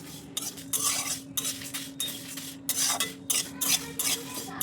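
Whole cumin, fenugreek and dried red chillies dry-roasting in a pan for mango oil pickle, stirred with a metal spoon in repeated scraping bursts with brief pauses, close and clear with no talk.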